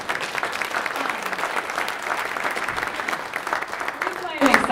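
Audience at a 2025 summit breaks into steady applause, crowd clapping sustained throughout, with a voice starting to speak over the tail end.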